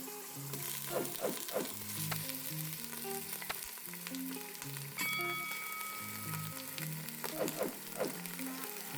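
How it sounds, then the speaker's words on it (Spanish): Chicken pieces browning in hot oil inside a pot, a steady sizzle with repeated stirring scrapes and clinks, alongside a background tonal hum that rises and falls throughout. "Cuando el aceite esté caliente, introducimos el pollo en la olla y removemos."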